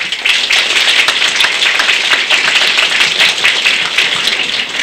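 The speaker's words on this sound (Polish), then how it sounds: "więc wielkie brawa dla rodziców" Audience at a Polish carnival (Zapusty) community event in a cultural centre applauding the parents, dense steady clapping throughout, loud and continuous.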